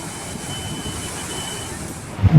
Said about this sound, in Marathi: पाण्याची चादर खाली कोसळताना दिसत आहे